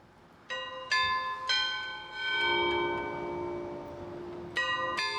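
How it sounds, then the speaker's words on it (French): The Picantins, bells of the Compiègne belfry, strike the quarter hour in a series of separate clanging strokes with long ringing decays and a pause mid-sequence, heard outdoors against quiet background noise. "chaque quart d'heure, on a des séries. Ils sonnent de droite à gauche."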